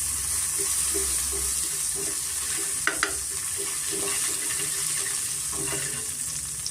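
Butter sizzling in a pan while garlic butter chicken is being prepared, a continuous close frying hiss with a couple of brief metallic taps of a utensil, no voices.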